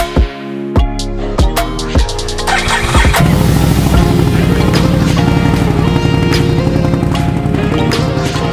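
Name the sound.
Can-Am Renegade ATV engine running after rebuild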